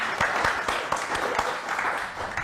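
An audience claps for a contributor at an event, a brisk round of applause with individual hand claps audible close by, steady throughout.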